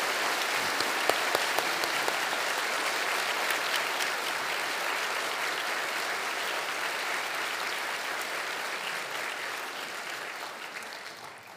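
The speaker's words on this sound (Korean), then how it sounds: "우리 목사님 가정을 위해 감사와 응원의 박수를 한번 보내주시기 바랍니다" A church congregation applauding together at a Sunday worship service, dense sustained clapping from many hands that carries on steadily and tapers slightly toward the end.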